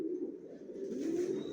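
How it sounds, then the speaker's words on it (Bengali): Adult Afsan grizzle pigeons coo in a soft, continuous low murmur close by, steady throughout. "এগুলো অ্যাডাল কবুতর"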